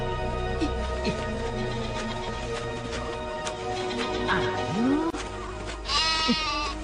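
A goat bleats several times in a farm setting, with wavering, nasal cries rising and falling close by over a busy background of other animal calls and murmuring sounds.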